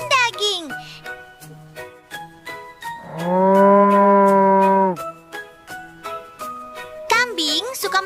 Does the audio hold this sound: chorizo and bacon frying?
no